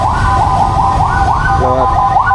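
An ambulance siren wails through congested city traffic in Purwakarta, Indonesia, its rising and falling tone repeating steadily over a constant rumble of nearby engines.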